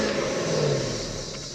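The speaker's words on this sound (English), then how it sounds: "Go ahead and give it a few revs." A Lexus engine revs briefly, a steady mid-pitched rise in engine note that holds and slowly eases off, close by with no talk over it.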